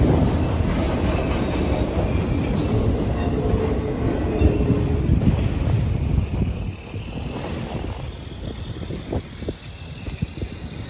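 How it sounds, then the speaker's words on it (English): A southbound mixed freight train running from Waycross, Georgia to Tampa, Florida rolls steadily past on the railway, with loud continuous rumble, squealing wheels and rail clatter throughout, easing slightly in the second half. "The southbound mix train from Waycross, Georgia to Tampa, Florida."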